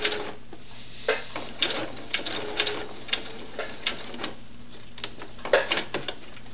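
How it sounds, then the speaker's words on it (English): A sewing machine running short bursts of back stitches on a cloth doll body, a series of quick mechanical whirring runs and clicks with pauses between, close and fairly quiet over a low hum. "I'm going to do a couple back stitches on this one too."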